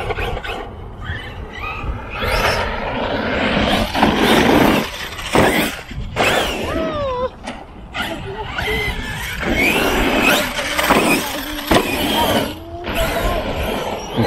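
An Arrma Kraton 6S RC car driven hard outdoors in winter whines and revs in surges, with tire scrabbling and bangs as it accelerates, while someone talks over it.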